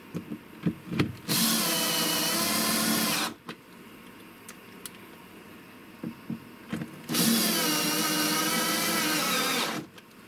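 A CNC machine with an automatic tool changer drills a holding hole in a workpiece: two loud, steady whirring runs of a few seconds each, separated by a quieter stretch of faint clicks and knocks.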